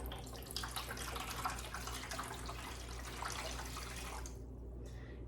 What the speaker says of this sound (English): we're just going to pour this into our system